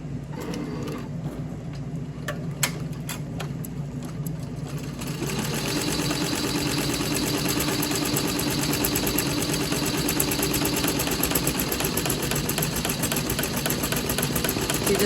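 An embroidery machine stitches a Christmas stocking held in a fast frame, starting with a few clicks and low hum, then settling after a few seconds into a loud, steady, rapid needle chatter that runs on alone.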